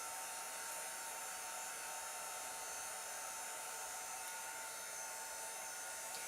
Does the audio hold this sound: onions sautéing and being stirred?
no